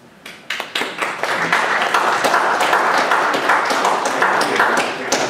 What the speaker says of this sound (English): And thanks for clapping.